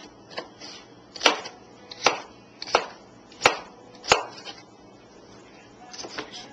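A knife chops food on a cutting board with five or six sharp, evenly spaced thuds, close and clear against a quiet kitchen background.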